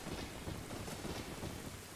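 Steady rain in the video game Zelda: Ocarina of Time, a constant dense wash of falling water with a low rumbling undertone, heard alone without voices.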